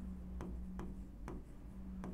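Chalk or marker writing on a board during a Devanagari script lesson, giving a few brief, evenly spaced tapping strokes, close and quiet against a low steady hum, with no talk.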